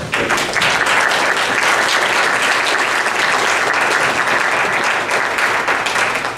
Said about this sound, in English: Clapping for him, not for me.